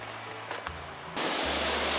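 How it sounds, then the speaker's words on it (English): A waterfall at Bernie's Falls on a mountain trail gives a steady, broadband rushing roar that grows louder and fuller after about a second, with a few faint knocks near the start. "Look at that beautiful waterfall."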